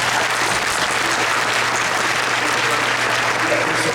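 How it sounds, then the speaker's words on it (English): Sustained applause from a panel audience at a fan event with Anthony Michael Hall, dense, steady clapping filling the whole stretch without letup, with a faint low hum underneath. "let's give a round of applause"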